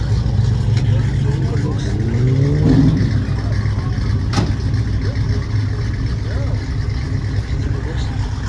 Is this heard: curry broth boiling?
no